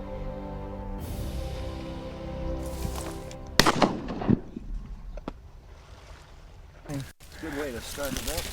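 A shotgun blast during a snowy duck hunt, one sharp loud crack with a short echo, followed by quieter rustling, another sharp report, and duck calls and voices afterward.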